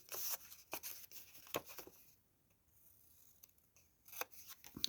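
Scissors snip off leftover paper edges from folded pages of a handmade Christmas journal, a run of close, crisp cuts with a quiet pause midway before more snipping.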